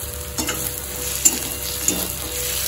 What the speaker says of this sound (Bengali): পেঁয়াজটা মোটামুটি অনেকটাই ভাজা হয়ে গেছে